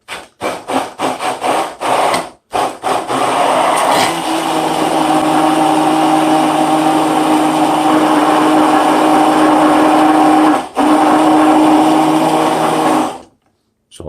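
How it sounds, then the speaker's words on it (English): A hand blender whirs steadily in a jar filled a little under half with a balsamic and apple cider vinegar marinade, preceded by a few clattering taps, loud and close, with a brief dip before stopping. "Now you want to use a hand blender."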